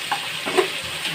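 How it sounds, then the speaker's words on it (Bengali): Mustard and poppy seed paste fries in a pan with a soft, steady sizzle and a faint stir, brief and fairly quiet. "সর্ষে আর পোস্তটা বেটে রেখেছি, এটা এর মধ্যে দিয়ে দেবো। দিয়ে কষবো।"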